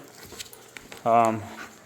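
A puppy from a previous litter, a young dog, gives a short high whimpering whine close by amid soft panting and faint rustling.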